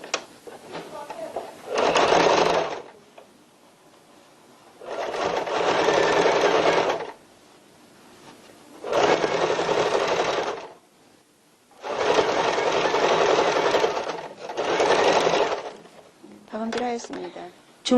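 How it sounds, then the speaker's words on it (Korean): A sewing machine stitches bias binding onto a tote bag in five long, loud, close bursts of rapid mechanical whirring, separated by quieter pauses where the fabric is adjusted. "바이어스 2차 박음질 하겠습니다."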